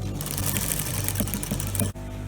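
A sewing machine top stitches the folded lining of a six-piece bandless skirt, a steady close whirring hum that stops abruptly near the end and then resumes.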